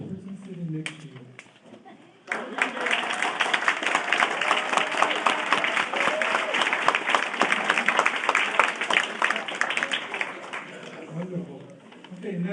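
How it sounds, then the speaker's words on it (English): Dense, loud applause from a seated audience bursts in after a short spoken lead-in and holds steady for about ten seconds of rapid clapping before thinning out as talk resumes. "Would you please give a loud applause for the person sitting next to you?"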